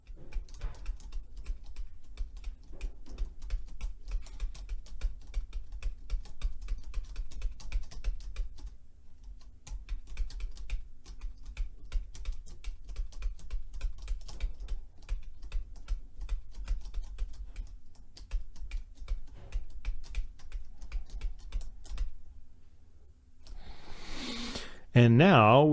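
Fast, steady clatter of typing on a computer keyboard while entering a simple bass line as notes, dense close keystrokes continuing for over twenty seconds, pausing briefly mid-run before a short louder burst at the end.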